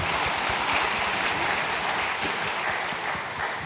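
Steady, dense applause from a church congregation during a Sunday service, sustained throughout at full strength with no speech.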